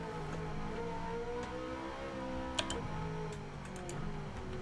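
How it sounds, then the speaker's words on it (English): A car engine in the Gran Turismo 7 racing game holds a steady, droning rev at moderate volume, with tonal whine shifting slightly and a few faint ticks on top. "I'm getting addicted to the sound of the engine"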